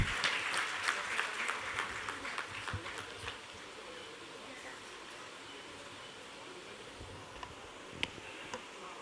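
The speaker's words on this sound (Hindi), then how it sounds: "श्री गजेंद्र सिंह शेखावत जी के लिए जोरदार तालियां।" At a cow-service award ceremony, a crowd claps for a speaker: dense, lively applause for the first few seconds, then thinning to scattered claps over a quiet room.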